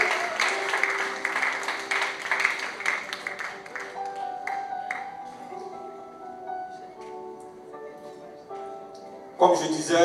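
A church audience applauding its pastoral group, with a swell of clapping and cheering toward the start that fades under music, then a short loud burst near the end.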